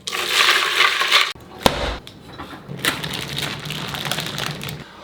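Ice being stirred into brine for a pastrami brisket, producing loud crunching and rattling of cubes with a sharp knock midway and continued churning, close up.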